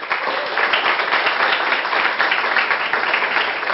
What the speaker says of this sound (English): So let us applaud our principals.